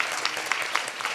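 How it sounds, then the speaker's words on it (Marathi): An audience at a Warkari kirtan breaks into a short, dense round of clapping, a steady wash of many hands at moderate distance. "त्यांच्यासाठी जोरदार टाळी वाजवा"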